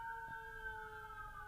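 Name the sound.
sirens in the distance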